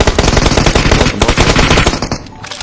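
Rapid automatic gunfire rattles loud and close in a video game firefight, a dense unbroken stream of shots that cuts off near the end.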